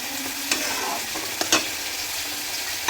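Chicken masala cooking in a pan gives a constant sizzle with a couple of brief stirring scrapes, close up and without speech.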